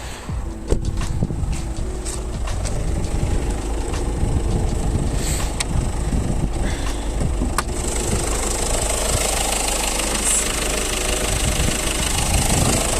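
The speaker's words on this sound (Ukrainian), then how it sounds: "Мотор працює гарно, як ви вже чуєте." A 2017 Peugeot 308 1.6 HDi diesel engine idles steadily with a low, knocking rumble, close by and continuous, with a few faint clicks and no speech.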